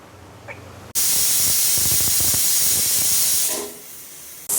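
A pressure cooker cooking pearl millet lets out a loud, sustained steam whistle that bursts in abruptly, hisses steadily for a few seconds, then fades before another burst begins.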